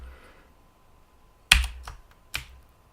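A few sharp, isolated clicks of keys on a computer keyboard while typing Python code, quiet and close, with long pauses between the taps.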